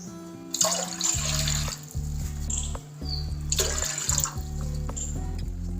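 About two and a half glasses of water poured into a pot for boiling farfalle pasta: a close, steady rush of pouring water, with a louder surge at the start and another midway over a constant low hum.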